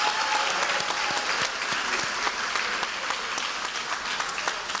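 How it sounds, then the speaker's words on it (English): A crowd at an athletic banquet claps steadily for student athletes throughout, dense and sustained applause without pause. "Let's give a round of applause to our student athletes."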